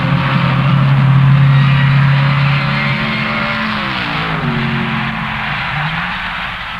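Drag racing cars at the 1966 NHRA Nationals at Indianapolis Raceway Park roar loudly and steadily, with engine pitch shifting and revving as the cars run, no voices.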